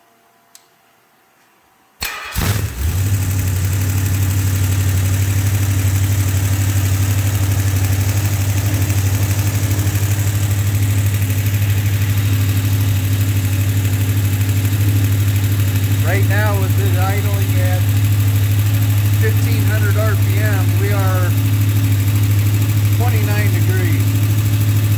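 A car engine idles steadily with a loud, constant low rumble throughout during an ignition timing check, starting up just after a brief quiet moment, with voices talking over it later on.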